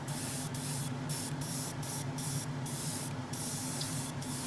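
An airbrush or spray can hisses steadily while paint goes onto the interior dash of a Hasegawa Lancia 037 Rally scale model car, a continuous close hiss broken by several brief pauses over a low background hum.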